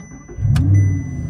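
Audi R8 5.2 V10 from 2011, a six-speed gated manual, cranks and fires into a deep, close, rising engine roar that settles into a steady idle within about a second.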